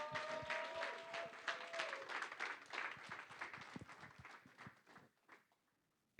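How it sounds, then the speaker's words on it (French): A church congregation applauds during a bilingual French-English sermon, dense clapping filling most of the stretch with brief background voices, then fading away to near silence at the end. "Est-ce qu'on peut applaudir ma fille?"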